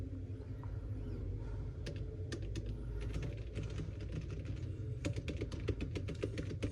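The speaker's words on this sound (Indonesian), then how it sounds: "Kita coba lagi, tes ngetik lagi." Steady typing on a MILS floating magic keyboard case for an iPad 11-inch, a continuous patter of soft, slightly muted keystrokes close up with occasional quicker flurries.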